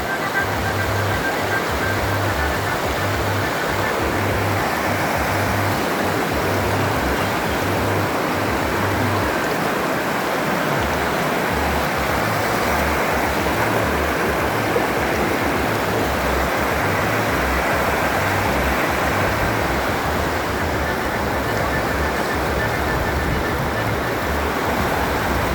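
Waterfall and stream water rushing steadily, a loud, continuous broadband roar with no pauses, heard close by and without anyone talking.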